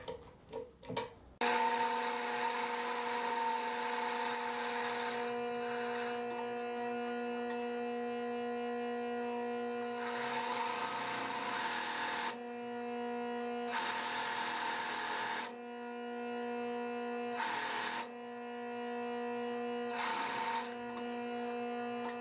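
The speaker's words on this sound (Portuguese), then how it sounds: "E aí, a gente vai costurar essa metade." Sewing machine running in long steady bursts with brief pauses, stitching one half of a fabric blanket package with bias binding, close and loud with no talk.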